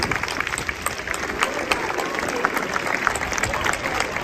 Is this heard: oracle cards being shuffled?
no